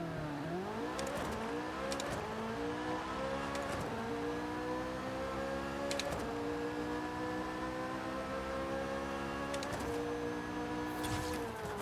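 A tuned 2023 Corvette C8 Z06 in the Forza Horizon 5 video game makes a drag run, its engine revving hard and climbing through several quick upshifts, loud and alone with no talk.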